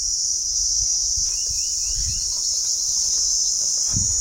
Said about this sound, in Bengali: এরা রাত্রে ডাকে, একটা তীব্র আওয়াজ, তীব্র ঝিঁঝি পোকার একটা ডাক।